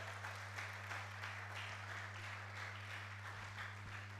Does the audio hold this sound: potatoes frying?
no